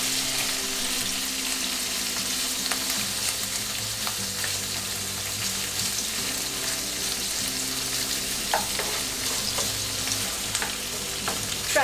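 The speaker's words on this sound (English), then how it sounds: "In the same pan, I'm going to fry my marinated shrimp." Marinated shrimp fry in a single layer in a pan, giving a loud, constant hiss of hot oil that holds steady throughout. A few light clicks of stirring and the odd pop stand out near the end.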